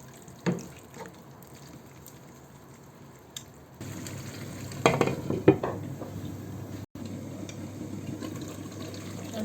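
Duck meat cooking down with yogurt and almond paste in a pan, heard as a low steady sizzle with occasional clinks and scrapes of stirring, growing busier partway through, no voices.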